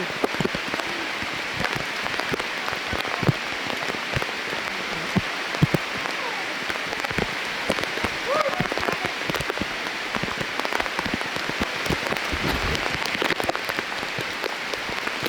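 Heavy rain pours steadily on a hiking trail to the Kayangan Lake view deck in Coron, Palawan, with dense drops pattering and splattering on nearby surfaces throughout.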